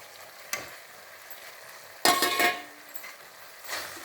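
Fried cauliflower tipped into a hot pan of Gobi Manchurian sauce with a sudden sizzle, then stirred with a utensil scraping and clinking against the pan, the frying hiss swelling and fading in bursts.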